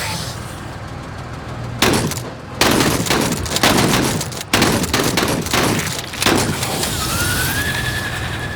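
Shotgun blasts at point-blank range in a video game come as several loud, heavy bursts in quick succession over continuous background noise, with a rising electronic tone near the end.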